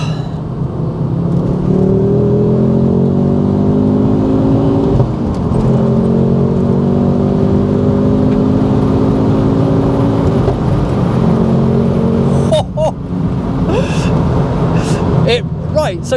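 Ford Focus RS Mk2 fitted with a Mountune MR375 upgrade, its engine revving hard toward the red line under acceleration, a loud rising drone climbing repeatedly between gear changes, heard from inside the car with brief clicks and knocks near the end.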